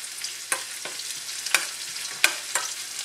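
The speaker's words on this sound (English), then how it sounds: "we're just going to saute the ginger and the shallot" Ginger and shallot sauté in a hot pan with a steady bright sizzle, broken by several sharp scraping stirs of a utensil against the pan at irregular intervals, close and alone without any talking.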